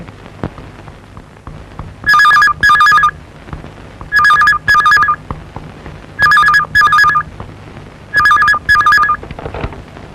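A telephone rings in four loud electronic double bursts, evenly spaced about two seconds apart, with quiet room tone between them and no talk.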